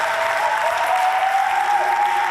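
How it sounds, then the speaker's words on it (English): Audience applause at an Earth Day press conference, a dense, steady wash of clapping from a room of people, loud and continuous without voices. "Give yourselves a round of applause."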